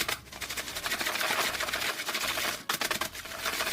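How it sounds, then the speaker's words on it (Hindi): Homemade nimko snack being tossed with chaat masala, a dense continuous rattle and crunch of dry fried bits shaken together up close, with one brief pause. "इसमें हम चाट मसाला डालेंगे और इन सारी चीज़ों को अच्छी तरह से मिक्स कर लेंगे।"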